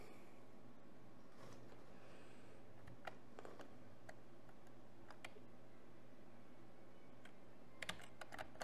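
Typing on a computer keyboard while playing a superflat Minecraft world, a scattered series of light close key clicks over a quiet steady hum, with a brief burst of keystrokes near the end.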